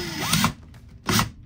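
A large power drill with a half-inch chuck whirs in two loud bursts, spinning up briefly, stopping, then running again, with no talk over it.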